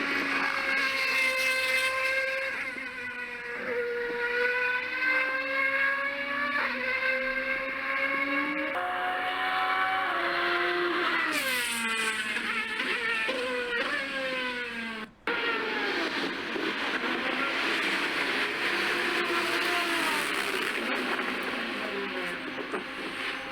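A Formula 1 car in the pit lane: a high-pitched engine whine rises and falls through gear changes as it passes, sustained and fairly loud, sweeping up sharply midway, with no talking.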